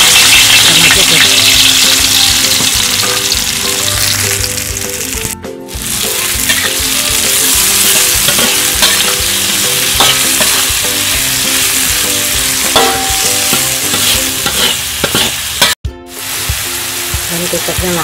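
Spices with green chillies stir-fried in hot oil for spicy water spinach, a loud, dense sizzle with scraping stirring that runs steadily, broken by two brief near-silent gaps.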